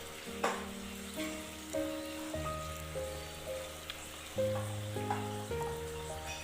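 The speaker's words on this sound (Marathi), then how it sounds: "इथे हे काप मी दुसऱ्या बाजूनेही छान क्रिस्पी होईपर्यंत भाजून घेतलेले आहेत" Sweet potato slices fry crisp and golden in a pan, a soft sizzle with occasional light taps, set beneath gentle background music with sustained tones, no talk.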